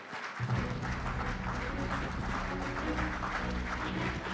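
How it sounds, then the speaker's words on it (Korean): Audience at a science and technology policy forum applauding as a presidential candidate enters, a continuous, fairly faint patter of clapping held at an even level throughout. "힘찬 박수로 맞이해 주십시오."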